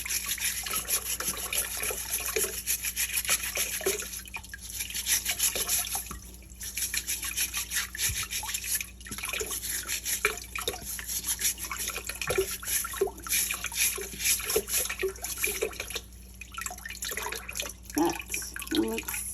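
Beets being scrubbed under a running kitchen tap, a steady broadband wash of flowing water with intermittent scraping and splashing, loud and continuous over about twenty seconds.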